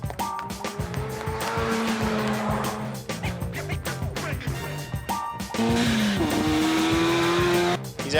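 A 1984 Mazda RX7 on a practice run roars hard with a raspy, high-revving engine, and long tire squeals rise and fall over it, loud and close.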